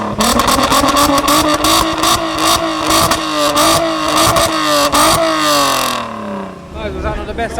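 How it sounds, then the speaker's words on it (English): Loud engine of a modified car revving hard at a night car meet, sustained roaring with rising and falling pitch sweeps and crackling bursts, crowd voices faintly beneath, easing off near the end. "was that not the best sounding car so far?"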